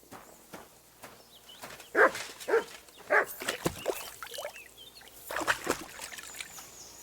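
A dog in the video game Kingdom Come: Deliverance II barks in a few short, sharp bursts around the middle of the scene, set against a quiet ambient game background with no talking.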